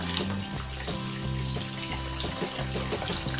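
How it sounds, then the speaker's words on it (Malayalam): Water poured from a glass into a cooking pot of simmering pink paalada payasam, a steady splashing pour heard under continuous tonal background music. "കുറച്ചുകൂടെ വെള്ളം ഒഴിക്കുവാണ്"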